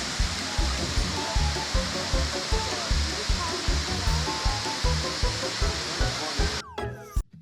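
Millaa Millaa Falls in Australia roars as a steady, loud wall of falling water, continuous and close, with a faint rhythmic pulse running through it.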